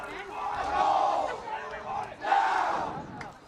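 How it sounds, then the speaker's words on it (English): Crowd at a boys high school soccer match between Taunton and Attleboro cheers and shouts in two swelling bursts, loud and broad, with a commentator's voice faintly underneath. "That's the positive cheering we want."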